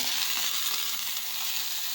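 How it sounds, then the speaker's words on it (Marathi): A loud, steady hiss of water sprinkled on an oiled hot griddle for paper dosa, continuous and close, with no voices. "तेल टाकून झालं की पाण्याचा थोडासा शिंतोडा मारायचा"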